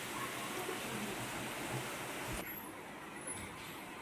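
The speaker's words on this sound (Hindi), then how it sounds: "ये देखिए कि सदा तेज़ बारिश है" Heavy rain falls in a steady, dense wash of noise with no voices, holding even throughout and easing slightly in tone partway through.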